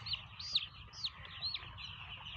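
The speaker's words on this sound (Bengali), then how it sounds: "মুরগি সব চলেছে আমার সাথে, ডাকবেন সাথে সাথে।" Seven-day-old broiler chicks on a poultry farm chirp in a steady scatter of high, thin peeps, several overlapping at close range over a low background rumble.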